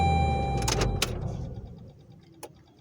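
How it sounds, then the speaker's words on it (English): A car's engine cranks and catches after a couple of sharp clicks, then settles into a low idle that fades quieter, with a faint knock near the end. "Is my car going to start? Yes, it is."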